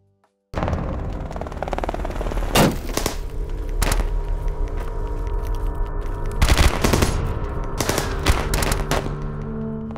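Burst after burst of gunfire sound effects added to a muzzle-flash edit, with loud rapid automatic volleys and sharp single shots over a steady rumbling bed, ending in a dense cluster of shots.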